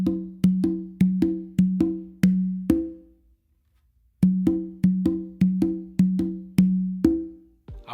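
A conga tumbao exercise is played with an accented open tone on the tumba. Two phrases of crisp, evenly spaced hand strokes ring out alone, with a clear pause between them.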